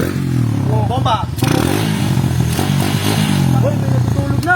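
A Suzuki Raider 150 motorcycle engine revs up close, loud and rising in bursts, while several people talk and shout over it.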